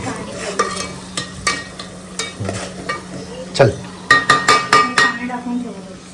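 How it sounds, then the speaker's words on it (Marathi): Metal utensils clink and scrape against pots in quick, irregular bursts, close by, over a low sizzle of frying. "किचनच्या मध्ये ना जरा भांड्यांचा आवाज येतोच"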